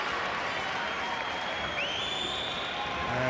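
High school basketball crowd cheers and applauds after a dunk in a 1995 semifinal game, a dense continuous roar with whistle-like tones and a commentator's voice mixed underneath.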